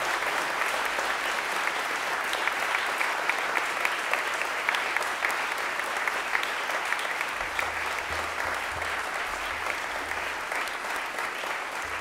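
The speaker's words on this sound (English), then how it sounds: "I'm going to give those people a round of applause first" Sustained round of applause from a school assembly audience honouring event organizers, a dense, even wash of many hands clapping at a moderate distance with no break.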